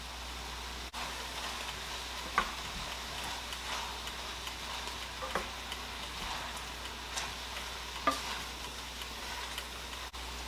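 Chopped spinach sizzling in a hot pan alongside lobster and parmesan, a soft steady crackle and hiss with occasional clicks and taps of stirring, fairly quiet and close, with no talking.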